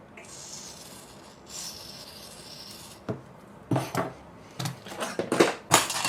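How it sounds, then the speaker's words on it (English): Fine 1500-grit folded sandpaper rubs the small metal terminals of a Polaroid SX-70 camera flash rail, a soft continuous scratch followed by a series of quick, brighter scrubbing strokes close up. "So I keep a little folded up piece of sandpaper, very fine grit. This is about 1500 grit for this very reason, just to make sure that those little terminals are all clean."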